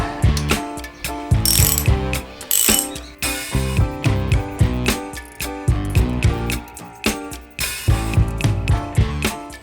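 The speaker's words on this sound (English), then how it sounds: "I think we should be able to get in here with a long extension to pop that out." Ratchet wrench on a long extension loosening a motorcycle spark plug, a dense run of quick mechanical clicks repeated in several bursts, close and loud, with no talking.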